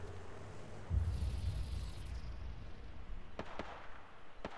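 Weapons fire in the Apex Legends video game comes as a burst of heavy booming shots followed by a few sharp, close cracks over steady background noise, with no voice heard.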